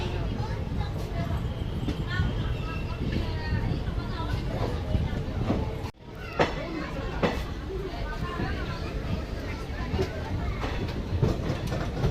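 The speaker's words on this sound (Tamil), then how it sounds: "நம்ம ட்ரெயின் திருச்சிராப்பள்ளி ஜங்ஷனில் டிபார்ச்சர் ஆக போகுதுங்க திருவனந்தபுரம் நோக்கி" The Tiruchchirappalli-Thiruvananthapuram Intercity Express rumbles steadily with rhythmic wheel clatter as it pulls away from Tiruchchirappalli Junction, people chattering faintly throughout; a brief dip in the noise midway.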